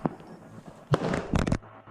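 Gunshots in police body-camera footage during a raid on a house, several sharp cracks, one single and then a quick burst, faint and somewhat distant, with no talking.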